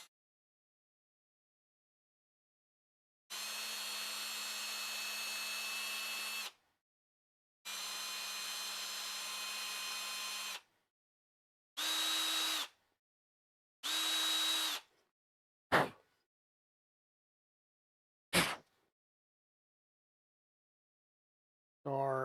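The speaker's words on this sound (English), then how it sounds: "I am going to go ahead and ream these out." Power drill reaming out bolt holes on a RatRig V-Core 4 Hybrid 3D printer frame: two long whirring bursts, then two shorter ones and a few quick blips, separated by silence, close and without voices.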